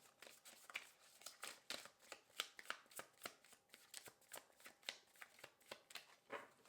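Cards are riffled and bridged in a quick series of crisp, fluttering bursts, close and fairly quiet, with no talking.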